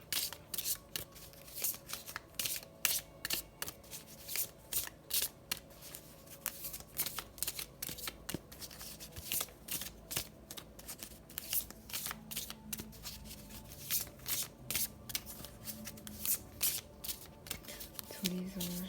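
A deck of oracle cards shuffled by hand in a steady stream of crisp riffling and sliding bursts, close and fairly loud, continuing for the whole stretch with no voice over it.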